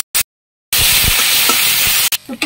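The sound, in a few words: onion and spices frying in oil for gourd curry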